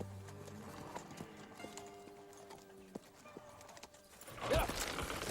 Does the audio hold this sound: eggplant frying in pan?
no